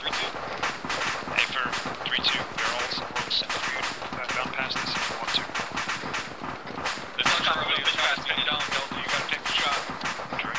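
Gunfire from an ARMA 3 platoon training battle rattles on with rapid bursts and sharp reports around an active main battle tank, dense and continuous, with voices speaking beneath it.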